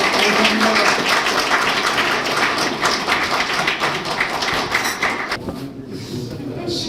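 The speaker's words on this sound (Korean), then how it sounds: "동의하시면 큰 박수 한번 보내주십시오." Guests at a book launch celebration give a big round of applause, with dense clapping and some thumps mixed with voices. The clapping thins and fades toward the end.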